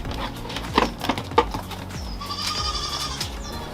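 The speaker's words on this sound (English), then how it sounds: "Morning, little goat." Little goat bleating on a morning farm, a few short nearby cries with some wooden knocks and shuffling early, then a longer wavering bleat toward the end.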